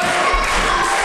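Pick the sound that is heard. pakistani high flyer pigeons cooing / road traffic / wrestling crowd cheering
wrestling crowd cheering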